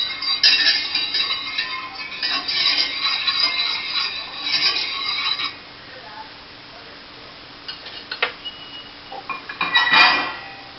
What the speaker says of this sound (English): of the essential oil lavender in there. I'm just stirring it real good.